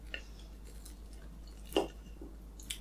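One crisp crunchy bite into a fried mushroom and onion croquette, close and brief, followed by faint quiet chewing.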